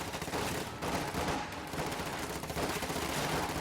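Machine gun fire in a World War II video game battle, with rapid sustained bursts of automatic fire and distant gunshots forming a dense, continuous barrage, without voices.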